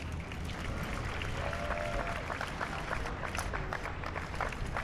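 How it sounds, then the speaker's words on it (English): Crowd applause for volunteers at the finish of a community run, steady clapping from many people outdoors, moderately distant, with faint cheering mixed in. "If you'd all give them please a round of applause."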